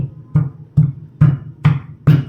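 Five heavy, evenly spaced thuds, about two per second, each a dull low knock with a brief gritty crunch as garlic is pounded in a mortar, close by and with no voices.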